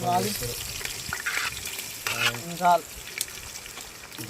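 Tempering spices sizzle and crackle in hot oil for a country chicken curry at an outdoor feast cooking setup, loud bursts of frying with clanks and water sounds, while voices talk in the background.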